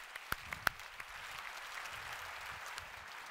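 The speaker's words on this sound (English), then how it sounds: "A round of applause for Lola and for Anders." A conference audience at a global health session gives applause: a few sharp, distinct claps at the start, then a soft, steady patter of many hands, fairly faint and distant.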